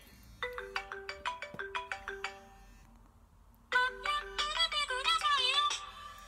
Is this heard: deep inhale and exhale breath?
no